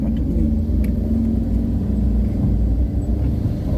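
A car engine labours up a steep mountain road in first gear on a Trenggalek–Munjungan route, a steady loud low rumble with faint road noise and no talk.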